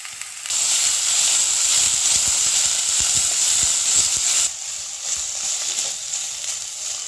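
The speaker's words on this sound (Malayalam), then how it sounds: "സവാള എല്ലാം നമ്മൾ ഇട്ട് കൊടുത്തിട്ടുണ്ട്. ഇത് നമുക്കൊന്ന് നന്നായിട്ട് വഴറ്റിയെടുക്കാം." Sliced onions sauté in oil for an eggplant masala, a loud, steady hissing sizzle with rapid scraping stir strokes that drops slightly in level partway through.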